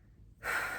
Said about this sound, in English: I'm gonna take some breaths